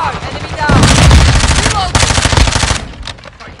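Loud, close machine-gun fire in the Call of Duty: Modern Warfare II multiplayer hardpoint mode, rapid cracking bursts in two main volleys that trail off, with faint game voice chatter mixed underneath.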